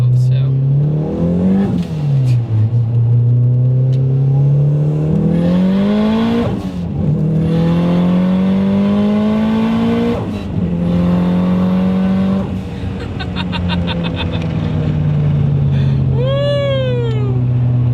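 A 750hp K-series swapped Toyota MR2 accelerates hard, its engine pitch climbing through several gear changes, loud and close from inside the car, with a brief whoop of excitement near the end.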